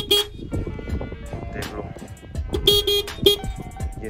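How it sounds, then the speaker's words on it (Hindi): A Suzuki Access 125 scooter sounds its horn in several short, bright beeps, close and loud, while someone talks between the honks. "ये इसका नॉर्मल सा हॉर्न।"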